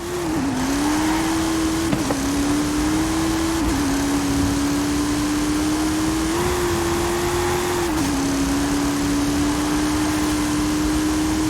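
Twin Mill car engine in Forza Horizon 5 droning steadily at high revs, loud and close, with slight pitch dips as it shifts and holds speed, no talk over it.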